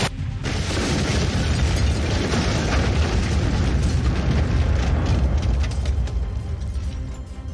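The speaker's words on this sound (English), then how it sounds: "Foreign Xena detonates a massive explosive device." A massive explosive device detonating in the video game Manamon 2, an abrupt loud boom followed by a sustained rumbling blast that slowly fades.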